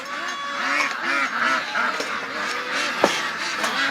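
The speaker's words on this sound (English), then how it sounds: "I'm going to let the ducks out now because I'm out here." A flock of ducks being let out in the rain honk and quack continuously, a loud, busy chorus of nasal calls close by with a sharp knock near the end.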